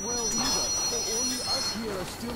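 A train rolls along in Metro Exodus with a continuous rumble and wavering metallic squeals of the wheels, while a person talks over it.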